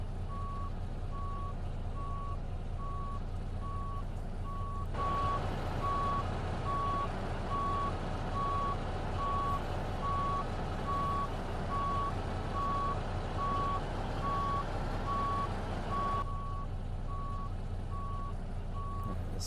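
Semi truck with trailer reversing while being maneuvered, steady repeating backup beeps throughout over a loud continuous engine rumble, with louder truck noise in the middle stretch.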